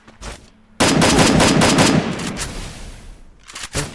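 Rapid automatic gunfire from the Free Fire battle royale game, a loud sustained burst of close shots lasting over a second, followed by a few fainter isolated shots.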